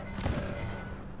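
Gas rifle gunfire in Fallout 4, a dense rumbling burst of shots that swells early and then trails off into a sustained low roar, moderately loud with no voices.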